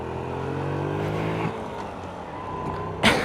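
Small Honda Monkey Baja motorcycle engine hums at low revs nearby for a few seconds, then a sharp louder burst near the end as it pulls away.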